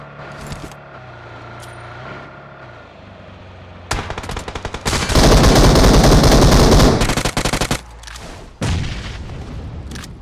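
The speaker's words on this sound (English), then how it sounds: "The timing on this grenade is perfect." A grenade goes off in PUBG Mobile with a loud, roaring blast that lasts a few seconds and is broken by rapid rattling bursts. Quieter gameplay sounds come before it, and a short loud burst follows.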